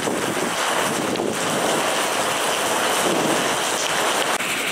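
Heavy rain and strong wind hit a suspension bridge at the Royal Gorge near Canon City, Colorado. A loud, constant roar of downpour mixes with gusty wind buffeting the microphone, and no one speaks.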